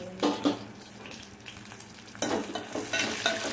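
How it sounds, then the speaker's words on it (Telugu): Dried red chillies and shallots fry in a pan for a Telugu pappu char, with a steady close sizzle and a few stirring scrapes and clinks of the spoon against the pan. "ఫ్రై చేసుకోవాలి బాగా."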